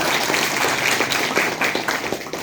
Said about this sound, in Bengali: আমরা করতালি দিয়ে একটা অভিনন্দন জানাই